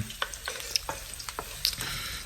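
Onions frying in hot oil in a wok, with a steady crackling sizzle and frequent clicks and scrapes of a spatula stirring, close and continuous.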